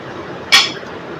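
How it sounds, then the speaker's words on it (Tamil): Radish and groundnut kara kulambu being moved into another vessel, heard as a single close metallic clink of a pot or ladle against a utensil amid quiet room noise. "வேற ஒரு பாத்திரத்தில் இப்போ மாத்திக்கலாம்"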